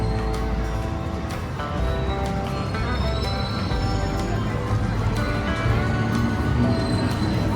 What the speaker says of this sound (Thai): จุดนี้ก็จะมีรถไฟวิ่งผ่าน กันอยู่สองสายนะครับผม